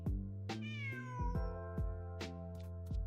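A cat meows in the Genshin Impact video game, a short series of clear, close meows, some rising and drawn out, with no talk.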